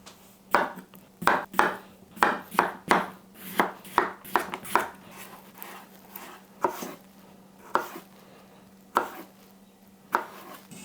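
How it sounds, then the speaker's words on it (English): A knife slicing potatoes into fries on a cutting board: a quick run of sharp, close chops that slows to occasional single cuts with pauses between them. "let's go ahead and slice some fries"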